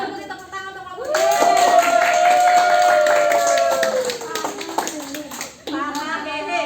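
Classroom students give a round of applause for a group during a lesson, brisk clapping from many hands with children's voices and an adult voice talking over it.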